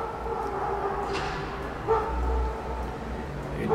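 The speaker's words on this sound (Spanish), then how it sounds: "El perro." A dog barking and yipping indoors, a few short barks over steady background noise with a low hum, fairly close.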